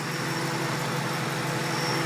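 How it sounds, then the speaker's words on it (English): A stock Ford Bullitt Mustang engine, fitted with a few new parts including aftermarket spark plugs, idles in a steady, even low rumble, close by and alone without talk. "stock Bullitt Mustang engine with a couple of new accoutrements"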